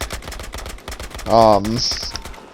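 An M125 submachine gun fires in Battlefield Hardline, a fast, even stream of sharp shots at about 550 rounds per minute, with a short tonal sound rising briefly over the fire midway.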